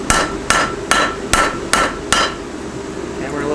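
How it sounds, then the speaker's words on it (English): Six sharp hammer blows ring out at an even pace on a knife blade resting on an anvil, each a bright metallic clang that quickly fades, followed by a quiet workshop. "hammer just in front of it."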